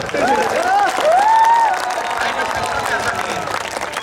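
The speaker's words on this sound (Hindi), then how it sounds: "एक बार जोरदार तालियां हो जाए जरा।" An audience at a live comedy and singing show in Jaipur claps and cheers, with voices and a few whoops rising over the steady applause.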